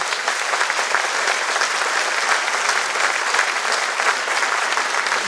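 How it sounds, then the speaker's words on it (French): A hall audience at a New Year's civic greetings ceremony breaks into loud, continuous applause, thick, evenly sustained clapping from many hands close by with no speech over it. "Je pense qu'on peut effectivement l'applaudir pour tout ce qu'il a fait pour notre ville."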